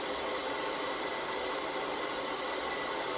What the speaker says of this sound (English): Again, the blow dryer is pointing down, pushing the hair around the brush.